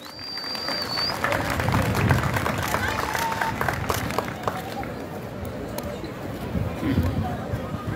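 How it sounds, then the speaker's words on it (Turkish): An outdoor crowd at a traditional highland festival in Tekirdağ claps together, a broad steady patter of many hands under open-air ambience and faint chatter, lasting several seconds. "Evet, bir alkış alalım."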